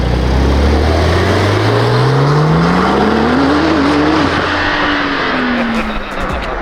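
A Porsche Turbo S sports car accelerates hard, its engine note climbing steadily in a loud, close rising drone before leveling off and fading slightly as the run continues.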